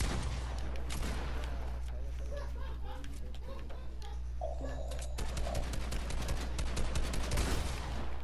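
Video game shootout, with rapid bursts and scattered single gunshots repeating throughout over a steady low background drone, and people chatting over the action.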